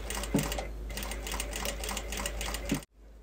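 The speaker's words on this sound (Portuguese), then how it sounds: "E a gente vem puxando o tecido e costurando." A sewing machine stitches fabric along a zipper for a jewelry case frame, a fast, even rattling whir close by that stops abruptly near the end.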